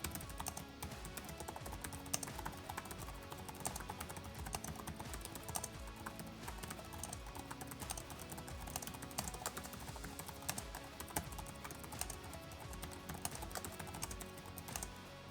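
Steady, fairly quiet typing on a Vivobook Pro 16X OLED laptop keyboard with 1.4 mm key travel, a continuous patter of close, soft-bottomed keystrokes with no speech.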